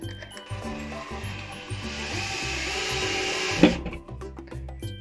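A power drill drives screws while shelves are built, its motor whining steadily and rising in pitch before stopping abruptly, set against background music.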